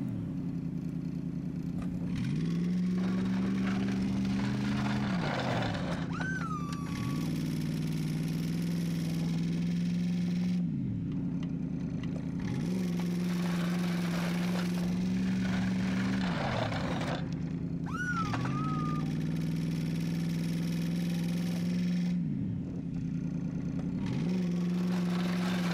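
Snow plow truck pushing snow off a driveway ledge: a steady engine drone that repeatedly swells as the truck drives forward with the angled plow, then drops back in cycles, with occasional hydraulic whine and scraping.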